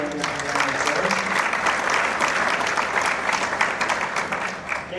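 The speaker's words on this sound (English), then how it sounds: "give them another round of applause" An audience at a mining club event applauds, with dense, loud, continuous clapping and a faint voice heard in the first moments.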